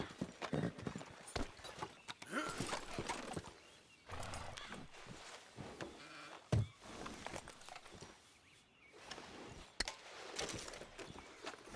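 Horse hooves clip-clop at a steady pace over a rough, noisy background in the video game Red Dead Redemption 2, fairly quiet overall and with no one talking.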